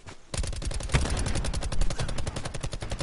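Gunfire from a sniper rifle in the video game Call of Duty Blackout, a loud sustained volley of rapid shots that starts abruptly and continues to the end, close and dense.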